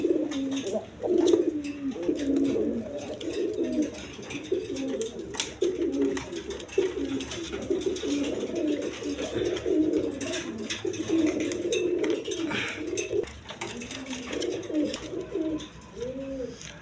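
A pair of Bombay pigeons coo repeatedly at close range, soft throaty rolling calls in steady overlapping bursts throughout.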